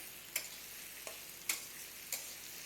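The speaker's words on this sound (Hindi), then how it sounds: "प्याज को मैं 2 मिनट फ्राई कर लेंगे।" A quiet, steady sizzle of onions frying in oil, broken by a few soft clicks and taps as they are stirred.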